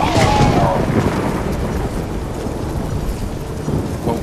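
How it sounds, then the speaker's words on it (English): A magic explosion in The Witcher 3 game, a loud deep rumbling blast that rolls on as a broad sustained roar, easing slightly then swelling again toward the end. "A magic explosion of some sort."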